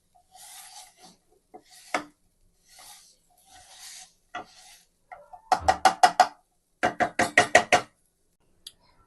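A potato masher works through a potato and pea filling in a pan, giving soft scraping rubs, then a quick run of sharp rhythmic mashing thumps and clacks, near and alone.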